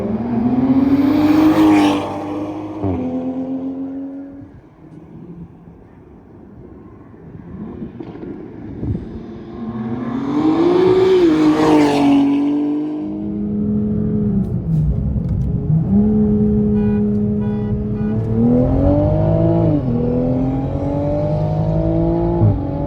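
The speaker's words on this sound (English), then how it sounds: "we're gonna get a run-in with the Supra, and then we're also gonna do a drive-by so you guys can hear how the exhaust sounds on both" Toyota Supra A90 and BMW M2 G87 exhausts in drive-bys under load, with engines rising and falling in pitch as each car passes close, loud and sustained with wind buffeting the microphone.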